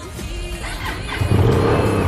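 A freshly repainted motorcycle's engine catches and builds from a low rumble into louder, steady revving, close by, with no talking over it.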